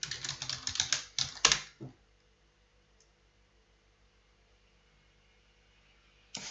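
Rapid typing on a computer keyboard as a database update command is entered, a dense burst of close, crisp key clicks for about two seconds ending in a firm final keystroke, then near silence with one more brief tap at the end.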